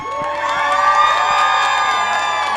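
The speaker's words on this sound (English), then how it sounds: "I'm going to go over there and tell them to cheer" A crowd gathered outside the Oscars cheers and whoops in a sustained, loud wash of overlapping voices, with shouts rising above the din throughout.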